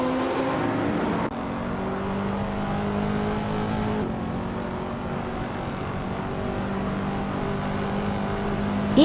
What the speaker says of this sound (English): the race is underway here at Atlanta Motor Speedway